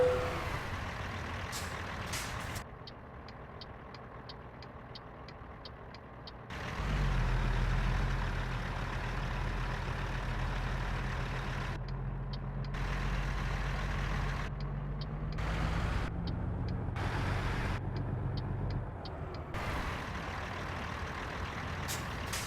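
A truck engine rumbles steadily in American Truck Simulator while parking, with a hissing air-brake release and rapid repeated beeps, all without talk.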